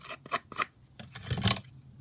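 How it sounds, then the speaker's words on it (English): Scissors snip through a vintage-style paper craft piece, trimming it down in a few short separate cuts with brief pauses between, close and fairly soft. "I'm just going to kind of trim it down there"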